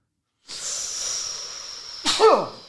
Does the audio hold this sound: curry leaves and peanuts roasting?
no